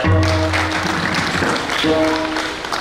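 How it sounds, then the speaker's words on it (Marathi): Audience applause at a kirtan performance at a Shani Jayanti festival, a dense, steady wash of clapping for the singers and musicians, with sustained tonal sound from the sound system underneath at times. "त्यांच्याकरता टाळी द्या"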